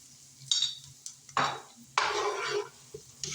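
Minced garlic dropped into hot oil in a pan, sizzling in short bursts as it is stirred, with three or four distinct scraping, hissing strokes close up and no speech.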